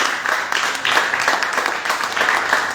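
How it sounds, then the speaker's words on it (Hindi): A crowd applauding steadily for a few seconds, a dense wash of clapping with no voices over it. "को छोटा तालियां दीप्ति जी के लिए"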